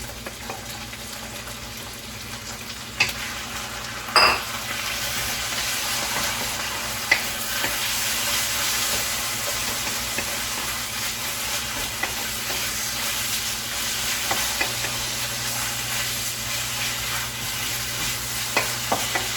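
Chicken fillet stir-frying in a pan with dried shrimp for Pad Thai, a loud continuous sizzle and hiss with occasional clanks of the utensil against the pan.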